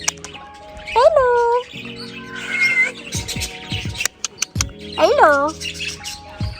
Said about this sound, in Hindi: यहाँ पे काफ़ी तरह के 3-4 किस्म के तोते हैं